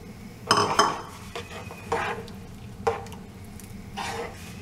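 A spoon scrapes and stirs cooked moong dal and ground paste together in a metal pot for tiffin sambar, several distinct clinking, scraping strokes at uneven intervals, close and moderately loud, with no talking.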